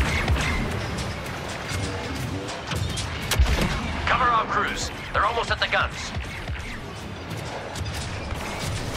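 Republic AT-TE artillery in a Star Wars battle game: loud heavy blasts and crashing impacts amid ongoing combat noise, with voices speaking over much of it.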